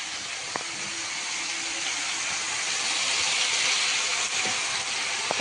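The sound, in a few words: fish frying in mustard oil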